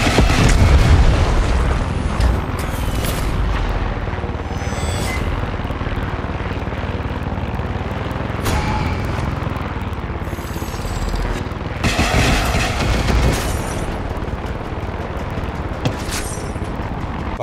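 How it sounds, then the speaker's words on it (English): Rockets fired at an anti-aircraft gamma cannon in the video game Far Cry 6 burst in loud, dense explosions and booms over a constant roaring aircraft drone, with heavier blasts near 3, 9 and 12 seconds. "Firing off these rockets will swiftly destroy the gamma cannon"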